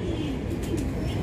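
A Saharanpuri cross Bajre pigeon gives a brief, low coo, close by, against a noisy background.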